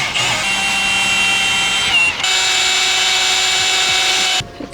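A power drill whines steadily while boring holes through thin stainless steel plates, close and loud, pausing briefly midway and cutting off near the end.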